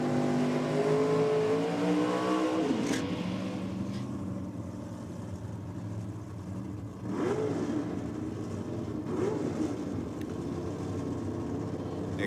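A drag racing car roars down the strip at a championship meet, its engine note rising and revving hard in the opening seconds before fading into a steady distant drone with a couple of further surges.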